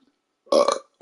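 A single loud burp after dinner, a short rough eruption lasting under half a second on its own in an otherwise quiet moment.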